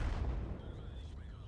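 A tank gun fires in a video game: one loud, heavy boom at the onset that rolls off into a decaying rumble and fades within about a second.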